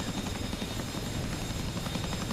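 A Chinook helicopter's engines and rotors give a steady, loud, dense drone with a throbbing texture, continuous and unbroken, with no voices.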